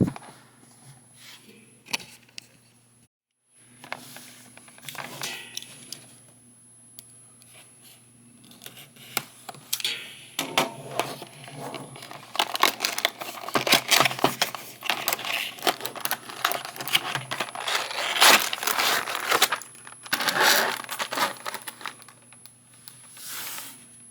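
Plastic packaging of a Batman action figure is opened up close, with irregular crinkling, snapping and tearing of clear plastic that grows busier and louder midway, with brief quiet gaps.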